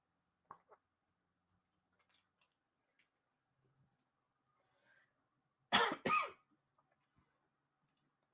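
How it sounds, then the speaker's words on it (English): A pair of close, harsh coughs breaks a mostly quiet stretch, preceded and followed by faint clicks and small noises. "Coughing fit."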